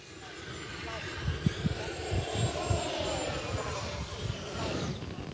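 An FMS F-18 model jet with a 70mm ducted fan spools at partial throttle outdoors, a steady rushing whine held for several seconds with faint voices nearby.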